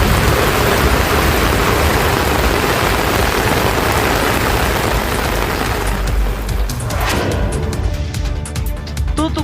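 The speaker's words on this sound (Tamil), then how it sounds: "அரியலூர் மாவட்டத்தில் திடீரென கனமழை பெய்தது." Heavy rain pours down steadily in the Ariyalur district, a dense, loud hiss of falling water that holds throughout and thins slightly toward the end.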